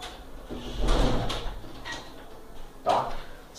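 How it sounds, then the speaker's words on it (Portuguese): A classroom door is pushed shut with a muffled thud and a short rattle of the latch, followed by quieter bumps, close by in a room with faint background noise. "vou fechar a porta aqui"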